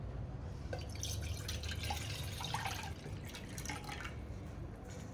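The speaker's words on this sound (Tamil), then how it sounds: "அதில் நம்ம எடுத்து வச்சுருக்கிற இந்த 1 கிளாஸ் தண்ணியை சேர்த்துக்கலாம்." A glass of water pours into a pot on a stove, a steady close splashing and trickling that runs for the whole stretch with no talk.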